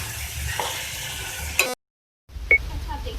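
Potato, tomato and spices sizzle and fry in a pan with a soft, steady hiss. A stirring scrape comes partway through, then the sound cuts out and resumes.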